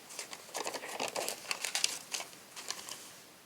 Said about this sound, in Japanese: このように2度に分けて半分に折ります。